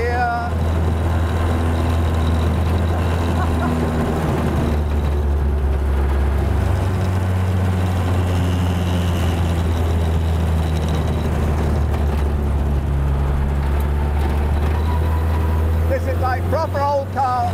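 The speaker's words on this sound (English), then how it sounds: "Into top, and it's both windy and noisy. Going quite nicely here. I'm going to keep this in second gear." Pre-war hot rod engine held in second gear while driving on a windy day, a loud steady low drone with wind rush throughout and engine pitch shifting slightly midway.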